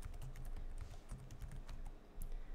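Fingers type an account name on a computer keyboard in a quick, steady patter of close, soft key clicks that lasts the whole stretch.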